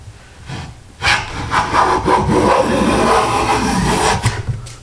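A Stanley hand plane taking a fairly thick shaving from a wooden board, a loud, close, sustained rasping stroke of about three seconds after a short quiet start, ending with a brief scrape.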